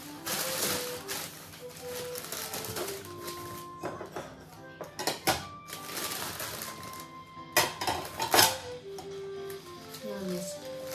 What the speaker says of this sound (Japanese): 食器があと一箱あって、段ボールに。